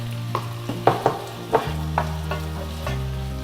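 Cleaned prawns going into a pan of frying onions for a ridge gourd prawn curry: a spatula scrapes and clacks in uneven strokes over a low sizzle, with a steady hum underneath.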